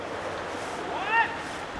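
Stream water rushing steadily by a bushcraft waterwheel hot tub, mixed with broad road noise, a constant outdoor wash with a faint rising tone briefly heard over it.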